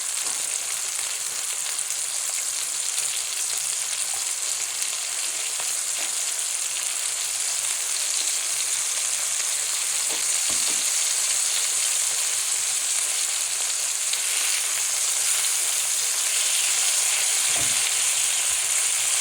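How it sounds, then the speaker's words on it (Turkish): Tomatoes frying in a pan as they are occasionally turned, a continuous bright sizzle with a few soft bumps of handling, close and steady throughout. "Domateslerimizi de ara ara çevirerek iki tarafını da güzel bir şekilde kızarmasını sağlayalım."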